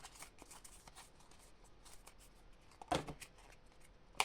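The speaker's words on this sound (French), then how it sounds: "Et je vais tirer une autre carte." A tarot card is drawn from the deck with soft shuffling and papery rustling, then two sharper flicks as cards slide free, all quiet and close.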